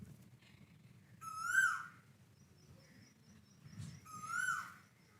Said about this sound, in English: It's my favorite bird, Asian quail. This belongs to cuckoo family. It has a peculiar calling